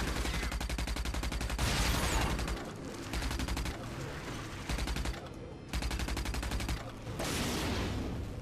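Sustained automatic gunfire aimed at the player in the shooter RAGE, loud and nearly unbroken, with bursts separated by brief dips and a few short pauses.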